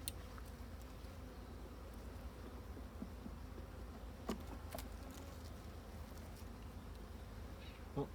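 Honeybees from a very weak colony in a small nucleus hive buzz softly and steadily during an inspection, a faint continuous insect drone with a few brief louder passes close by.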